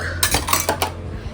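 A metal spatula set down among cooking pots in a home kitchen after deep-frying fritters, giving a few sharp metallic clanks and clinks close by over a steady low hum, with no talking.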